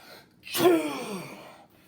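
A single voice mimics a dragon's sneeze: a sharp breathy intake bursting into a loud, drawn-out wailing blast that fades after about a second, alone in a quiet setting.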